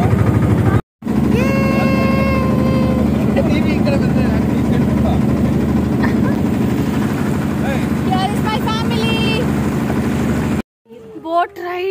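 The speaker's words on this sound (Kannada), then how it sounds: "ಇಲ್ಲಾಂದರೆ ಟಕು ಟಕು ಟಕು ಟಕು ಅಂತ ಮೋಟರ್ ಸೌಂಡ್ ಇದೆ ಕಂಪ್ಲೀಟ್ಲಿ ಬ್ಯಾಕ್ಗ್ರೌಂಡ್ನಲ್ಲಿ" A boat motor on a ride off Honnavar hums in a loud, steady, throbbing drone throughout, with people talking over it and two brief cuts of silence.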